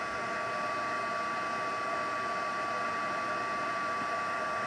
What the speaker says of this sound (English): Let's bring our heat tool in and heat this up.